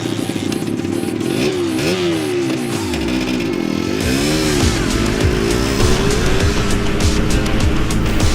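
Motorcycle engine revving hard as its power band kicks in, the pitch sweeping up and down through repeated throttle blips before settling into a loud, steady high-rev roar, close by with no talk.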